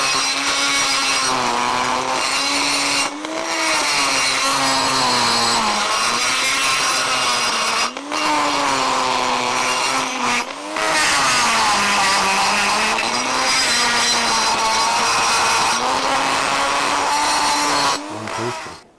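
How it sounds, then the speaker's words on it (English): Grinder cleaning the oxidised inside of an alloy gas turbine part, a loud, continuous whine whose pitch wavers as the tool works the metal, broken by a few brief pauses. "A little bit clean up with the grinder inside."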